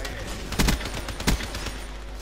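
Gunfire in Call of Duty: Black Ops III comes as two quick, punchy bursts about a second apart over a constant busy game background, fairly quiet overall.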